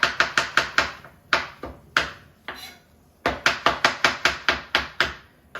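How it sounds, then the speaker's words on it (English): Fresh mushrooms are chopped with a knife on a board in quick bursts of crisp, close, sharp chops, with short pauses between runs and no talking. "Okay, so I chopped my mushrooms."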